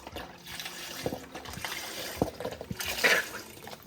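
Broth pours from a box into a pot of lasagna soup, a close, steady liquid splashing and trickle that builds louder toward the end, with no voices.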